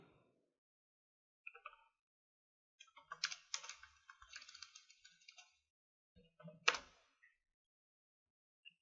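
Keyboard typing for a graphics card search, heard as scattered quiet clicks and short bursts of keystrokes with long silent gaps, faint and close, with no talking.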